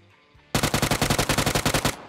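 Rapid automatic gunfire from a PUBG firefight, a loud burst of about a dozen and a half evenly spaced shots that starts abruptly and runs for roughly a second and a half, close and alone, with no talk over it.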